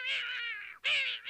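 A cartoon green cat in a 1960s animated show gives two loud, drawn-out meows, one after the other with a brief gap, alone and close up.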